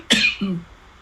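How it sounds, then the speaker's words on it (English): A single sharp cough is quickly followed by a lower throat clearing, close and loud, in a quiet indoor recording of a poetry podcast host. "Sorry, I may have to cough."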